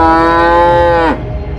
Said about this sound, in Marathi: त्याला झोपडीच्या बाजूने म्हशीचा हंबरडा ऐकू आला